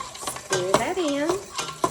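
A spoon stirs vanilla into a banana pudding mixture, giving a couple of short scraping and clinking strokes against the bowl, close and fairly quiet.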